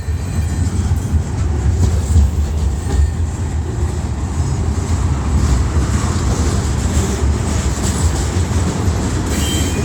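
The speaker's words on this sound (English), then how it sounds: "The train is going faster." A long freight train rolls past a level crossing at Struthers, producing a loud, continuous rumble of wheels and cars with steady clatter throughout.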